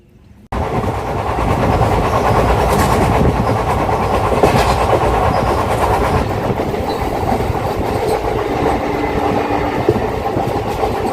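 An Indian Railways passenger special between Guwahati and New Bongaigaon runs steadily, with a continuous rumble and rattle of the coaches and a faint clickety-clack throughout, loud and close, and no talking.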